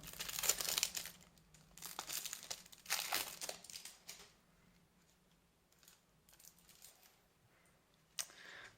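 Yu-Gi-Oh! Legendary Decks Yugi packaging being opened, with close bursts of plastic and cardboard crinkling and tearing that come in several rustling bouts, then quieter handling and a final crackle.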